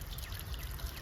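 Water from a garden hose running at full blast pours and trickles steadily through a newly installed French drain, a brief, continuous gushing heard up close.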